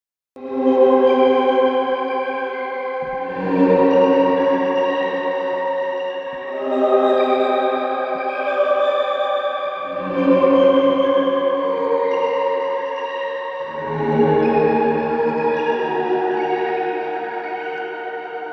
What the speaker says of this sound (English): the sample was passed through reverb, then reverse, then pass through reverb again